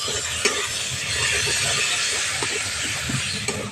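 Steady, loud sizzling of tomatoes frying with spices and salt in a pan, a continuous hiss with occasional faint stirring clicks, no voices.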